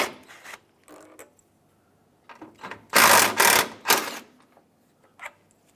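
Ratchet working two 10mm intercooler bolts loose on a 2008-2010 Ford F-250 Super Duty, heard as a few separate bursts of close metallic clicking and whirring with short quiet gaps between them.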